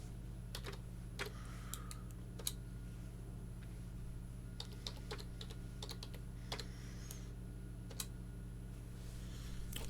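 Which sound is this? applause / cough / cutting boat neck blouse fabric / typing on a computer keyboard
typing on a computer keyboard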